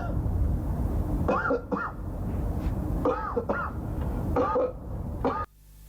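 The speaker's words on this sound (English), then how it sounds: "you're having a coughing fit at the very least" A person in an analog horror game has a coughing fit while driving, with several loud clustered coughs in repeated bursts over a steady low background rumble that cuts off abruptly near the end.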